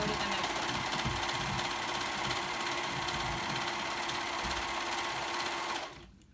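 A sewing machine runs steadily in a continuous fast mechanical whir, then stops abruptly near the end.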